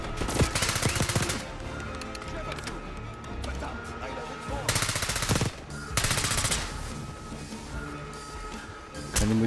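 Gunfire in Call of Duty: Black Ops 6 on PS5, dense bursts of automatic fire in several loud clusters with brief lulls between, music and game sounds underneath.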